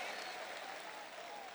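Crowd applause at a presidential campaign rally in Hershey, a distant, steady wash of clapping and cheering from a large audience, with a faint voice carrying over it.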